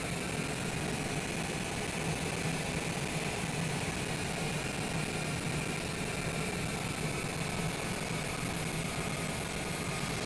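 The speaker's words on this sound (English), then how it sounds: "let's taxi over here to the hold short bars" Airliner taxiing on the ground in Microsoft Flight Simulator 2020, a steady, even engine hum and whine that runs unbroken and fairly loud from start to finish with no talking.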